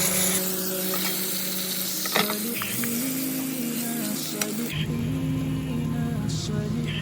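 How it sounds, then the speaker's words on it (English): Onion and boiled pepper fry in 50 ml of oil in a pan for a fried sauce, a loud, close, continuous sizzle with occasional clinks and scrapes of stirring, no voices. "let's get to how the pepper was fried. Add 50 ml of oil to the pan. Add onion. Add your boiled pepper."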